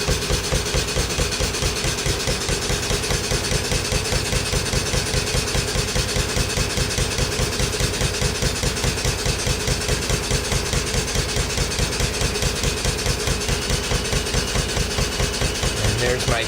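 A restored Stuart No1 stationary engine runs steadily on a big single cylinder, thumping in a fast regular rhythm with a clear metallic pin knock on each beat, close and continuous.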